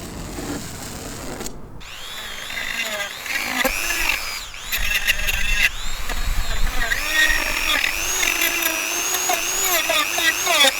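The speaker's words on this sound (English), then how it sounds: "I'm going to sand down and file everything" Plastic model car parts being sanded and filed, heard as a whirring, rasping tool sound with pitch shifts, steady and close, with background music.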